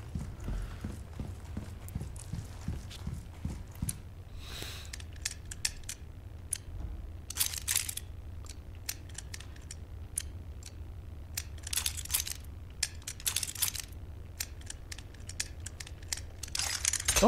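A combination lock in a survival horror game is worked by hand, a run of quick mechanical clicks and ratchets followed by sharp scattered metallic snaps and clacks, close and fairly quiet.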